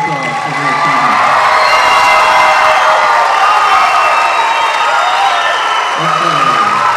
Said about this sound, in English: Let's give them another round of applause for their achievement.